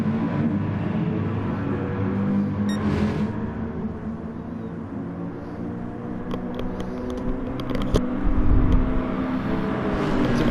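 Engines of GT4 race cars drone steadily in a racing game at the Nurburgring GP circuit, a continuous layered rumble and whine with small shifts in pitch and a brief louder swell near the end.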